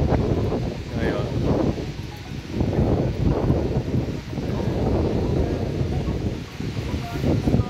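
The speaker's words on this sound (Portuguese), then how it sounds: "O vento deixa o aspecto bem mais gelado ainda." Cold wind gusts across Gravatá beach in Navegantes, Santa Catarina, roaring steadily into the microphone in loud, broadband bursts, with possible surf mixed beneath the constant rush.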